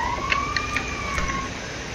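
An ambulance siren in Grand Theft Auto V wails in a steady, slowly sweeping tone, moderately loud and near, with a few faint clicks underneath.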